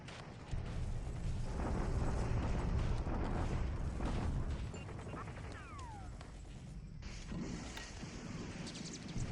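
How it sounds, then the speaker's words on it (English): Rumbling bombardment explosions from the War in the Pacific strategy game roll on as a dense, continuous low boom, heavier in the first half and then easing into a steady background rumble, with no voices over it. "Allied bombardment at Wenchao."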